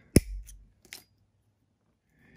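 Two sharp metallic snips close up as a paper clip is cut, a loud first cut followed by a softer second one, then quiet.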